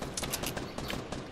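Rapid bursts of gunfire from the video game Fortnite crackle densely and loudly for a brief moment, shots overlapping in a continuous volley.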